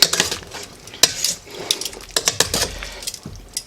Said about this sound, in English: flip this chicken over a little bit